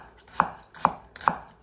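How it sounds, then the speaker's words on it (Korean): Three evenly spaced knife strokes through an onion on a cutting board, each a crisp close thud-chop about half a second apart, with no voices. "양파 먼저 썰게요"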